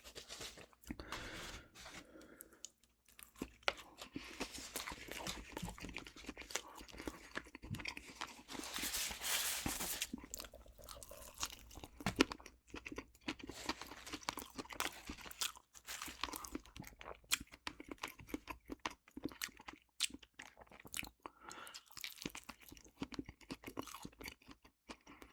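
Close, continuous crunching and chewing of a KFC chicken sandwich and potato wedges, with dense irregular bites and crackles throughout and no talking.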